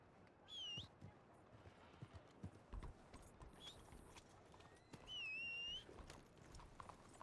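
Video game horse hooves clip-clop at an unhurried walk, with a few high bird chirps breaking through the steady clatter.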